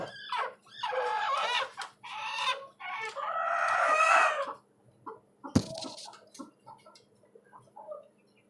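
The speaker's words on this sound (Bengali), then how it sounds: "এই যে আমার মুরগিটা" A broody desi hen on a rooftop farm gives a series of close clucks and throaty calls, followed by a sharp knock and softer scattered clucks, with no talking.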